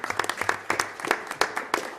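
Board of commissioners meeting attendees clap in a brief, sparse round, individual claps distinct and irregular, fairly close with a little room murmur underneath.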